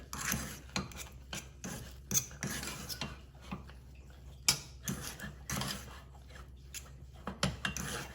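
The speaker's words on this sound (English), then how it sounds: "now I'm just switching off the flame, mixing it one more time." Millet roti dough, made from jowar, bajra, corn or buckwheat flour, being stirred and scraped in a pan on the stove, with repeated rasping strokes and scraping scuffs in an irregular rhythm, close and moderately loud.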